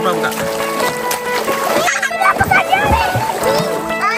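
Children splash while bathing in a river near a longhouse, with busy, uneven water splatter running throughout and close kids' voices chattering and calling over it.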